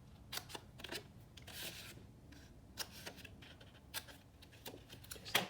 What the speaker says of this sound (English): So I'm going to cut out these corner pieces.